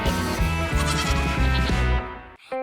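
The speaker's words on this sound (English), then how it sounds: "There were some very beautiful goats in the pen." Cartoon goats in a pen bleat loudly in a long, wavering stretch, a steady animated baa that runs nearly three seconds before cutting off, with a brief faint call at the end.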